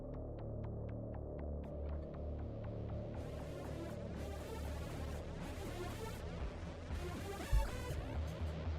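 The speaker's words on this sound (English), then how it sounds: "This air conditioner here keeps the room nice and cool." A room air conditioner running close beside a desk, giving a steady, loud low hum with a throbbing pulse and broad airy noise that swells in places, continuous throughout with no talking.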